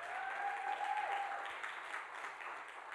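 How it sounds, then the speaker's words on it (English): Church congregation clapping and cheering in a large hall, a steady wash of applause with a sustained tonal voice or shout rising over it throughout. "Somebody clap your hands and shout real big."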